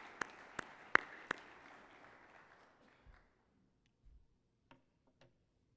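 Applause from an audience at a corporate forum in Saudi Arabia, with a few sharp claps standing out over a decaying wash that fades within about three seconds, followed by scattered isolated claps in a quiet room.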